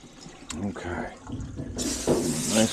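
Warm water runs from a tap while a golden retriever is bathed during grooming, a steady gush that grows louder midway, with a person talking over it.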